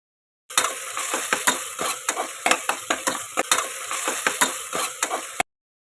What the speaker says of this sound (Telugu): అల్లం వెల్లుల్లి పేస్ట్ అలానే కరివేపాకం కూడా యాడ్ చేసుకుని పచ్చివాసన లేకుండా చక్కగా ఫ్రై చేసుకోవాలి